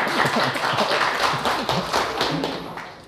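A small lecture audience at a talk on reading the Analects claps for a few seconds, brisk, close, uneven hand claps that ease off near the end.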